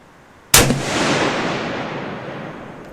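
A single loud Howa 300 PRC rifle shot on an outdoor range, firing a Reloader 26 handload, with a sharp close crack followed by a long rolling echo that fades over a couple of seconds.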